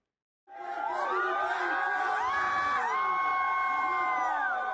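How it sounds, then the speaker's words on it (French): After winning a spearfishing event, the Tahitian team erupts in loud, sustained cheering and shouting, many voices whooping together close by. "La sélection tahitienne exulte, crie en brassade, émotion, la joie est immense."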